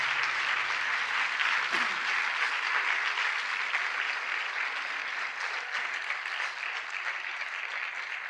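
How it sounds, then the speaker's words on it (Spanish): A church congregation applauding, a steady dense wash of clapping from many people that holds at an even level throughout, with faint voices mixed in underneath. "Yo quisiera que le ofrecieras un fuerte aplauso a Jesucristo."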